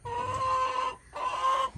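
Chickens cluck nearby on a ranch during morning chores, in two short bursts separated by a brief pause.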